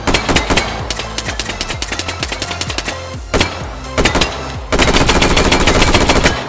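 Zip 22 gun firing in the virtual reality game H3VR: loud, close bursts of rapid shots, some separate quick runs of rounds with brief gaps between them, ending in an intense, dense stretch of continuous fire.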